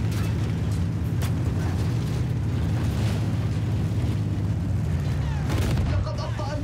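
Artillery cannon fire in the Battlefield 1 video game, heavy continuous rumbling booms with a dense low roar throughout and a few sharper blasts, a voice speaking intermittently over the din.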